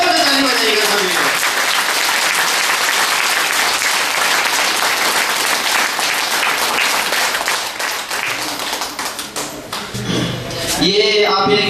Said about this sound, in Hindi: एक बार जोर से ताली बजाइएगा सभी लोग।